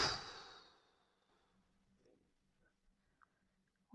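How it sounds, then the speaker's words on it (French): A strong, breathy exhale opens loudly and trails off during a sophrology breathing exercise, followed by near silence with faint small clicks. "vous allez prendre une profonde inspiration et souffler fortement"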